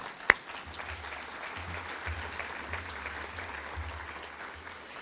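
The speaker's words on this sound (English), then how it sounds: "Let's give them a round of applause." Distant, diffuse applause from an audience at a sustainability event rolls on steadily, faint and washed out, with one sharp click near the start and a low hum in the room.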